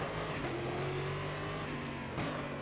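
A V8 stock car racing at Adelaide in a racing game, its engine held at full throttle in a steady, loud roar that climbs slowly in pitch with a brief shift near the end.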